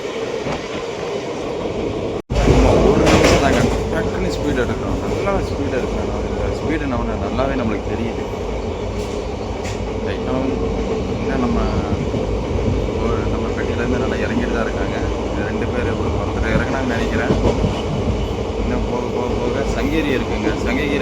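A Salem to Erode passenger train gathering speed, with a steady loud rumble and rattle of the carriages and wheels on the track throughout. A sharp jolt comes near the start, and voices carry faintly in the carriage.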